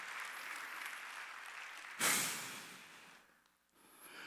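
A church congregation's clapping rises suddenly during a Sunday service sermon, holds briefly, then fades away, preceded by a steady murmuring room noise.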